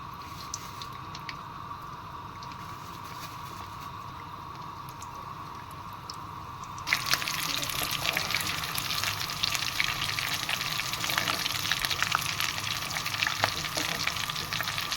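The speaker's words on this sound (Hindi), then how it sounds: "ऑयल हमारा गर्म हो गया, अब इसमें हम डाल देंगे इनको" Spiral samosas made from leftover dough and masala, dropped into hot oil, where a faint background hiss suddenly jumps into loud, crackling sizzling that continues steadily, close up, with no talk.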